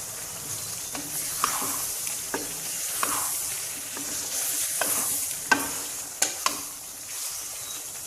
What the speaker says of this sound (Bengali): কিছুক্ষণ পর পর এভাবে আচারটা নেড়ে চেড়েই তৈরি করে নিতে হবে